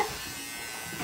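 Electric hair clippers buzzing steadily at close range while shaving a person's head, a constant motorized hum with no speech.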